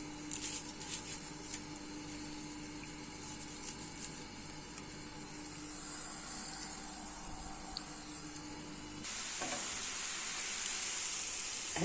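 Dough pastries fry in hot oil with a steady, fairly quiet sizzle that swells into a brighter, louder crackle toward the end.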